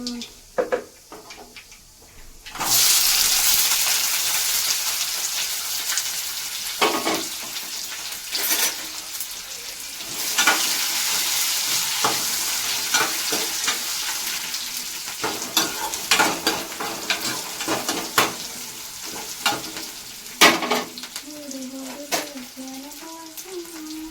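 Amaranth leaves (thotakura) fry in a pan with a steady, dense sizzle that starts abruptly after a quiet opening, broken by stirring clatter and scrapes. Brief faint voices come through near the end.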